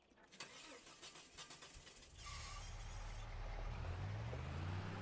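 A truck engine in Farming Simulator 25 cranks after a few clicks and clatters, then catches and settles into a steady, loud idle that continues to the end.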